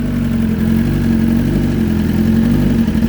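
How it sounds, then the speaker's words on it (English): Cold-started 2020 BMW S1000RR with a Brocks tuning exhaust, idling steadily and loudly up close with a deep, even rumble and no pauses. "That's a cold start with a Bryn tuning."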